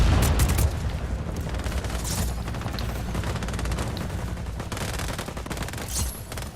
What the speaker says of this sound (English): there seems to be a invisible artillery cannon shooting at me